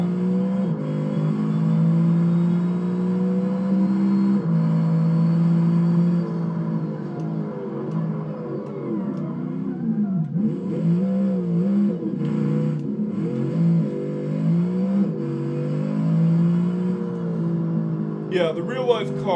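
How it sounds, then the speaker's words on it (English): An ETK ttSport V8 LMH race car in BeamNG revs its American-sounding V8 engine with a steady, droning tone that rises and falls, while a voice talks over it almost throughout. "in the BeamNG verse, it has an American V8 sound"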